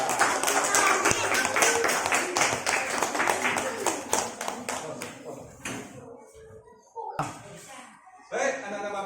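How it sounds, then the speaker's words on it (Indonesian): Students in a classroom give rhythmic, fairly close group clapping for group 4, which stops after several seconds, followed by a few knocks and brief voices. "Ya, tepuk tangan untuk kelompok"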